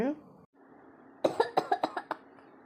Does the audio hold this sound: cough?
yes